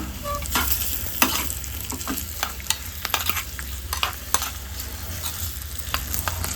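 Raw mango tambuli being stirred after asafoetida and turmeric are added, with the stove switched off: a spoon scrapes and clinks against the pot in irregular, close strokes over a soft background hiss, with no talking.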